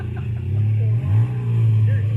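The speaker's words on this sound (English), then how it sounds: "Listen to the motor right here." Motorcycle engine during a timed speed run, a steady low droning hum whose pitch wavers and dips briefly, close and fairly loud.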